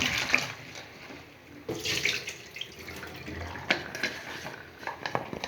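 Peeled pointed gourds are rinsed with water in a kitchen: running, splashing water with clinks of a bowl and brief pauses, close and moderately loud.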